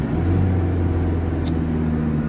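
A manual-gearbox car's engine hums in a loud, steady low drone as the clutch is slowly let out, with constant rumble and no clear rise in pitch. A brief faint click sounds midway, and no one speaks.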